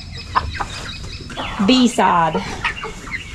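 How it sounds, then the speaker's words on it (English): Buff chickens cluck and give short rising calls nearby in a garden yard, a few scattered vocalizations with a person speaking briefly in between. "Hey there, chickens."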